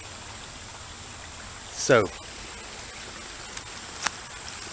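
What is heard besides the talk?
creek water flowing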